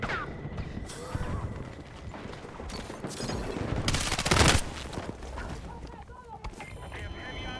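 Gunfire from a firefight in the video game Battlefield 6, with scattered shots and a dense burst of automatic fire near the middle under a busy mix of game noise and a voice.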